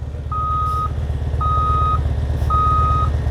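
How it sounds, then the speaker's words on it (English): A large truck backs up, its reversing alarm giving three evenly spaced steady beeps over a loud, constant low engine rumble close by. "It's a big ass truck."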